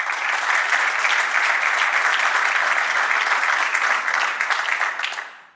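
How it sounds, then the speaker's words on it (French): Loud, dense applause from a crowd at a 2024/25 Normandy National 3 football trophy ceremony, a thick continuous wash of clapping that holds steady for several seconds and then fades away at the very end. "Des belles réalisations. On peut encore les applaudir."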